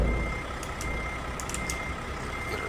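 Reversing beeps from a truck backing up in American Truck Simulator, a steady electronic beep over a constant engine drone with no talk.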